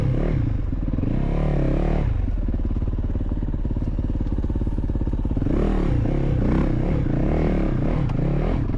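Yamaha YZ450FX dirt bike with hydraulic clutch riding rocky trails, engine droning loud and close with revving surges, rattling and scraping against rock throughout.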